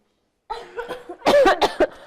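A child's small throaty noises lead into a burst of several sharp coughs, close and loud, then quiet.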